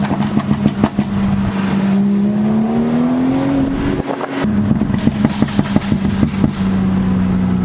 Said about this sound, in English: just absolutely insane the acceleration on this B58 power plant car.